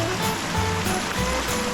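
Continuous rushing water of a stream beside a campsite, a steady close flow with a low rumble underneath and no pauses.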